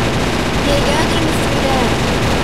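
Cannons aboard an airship fire cannonballs in the Roblox game Zeppelin Wars, a loud, continuous rumble of overlapping blasts and booms with no break, and a voice faintly audible beneath it.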